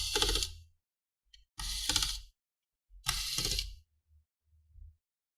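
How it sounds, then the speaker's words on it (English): A screwdriver working loose the heatsink screws inside a Dell 17 laptop: three short bursts of sharp mechanical clicking and ratcheting, close up, separated by pauses, followed by a few faint taps at the end. "Now we're gonna go ahead and unscrew the heatsink."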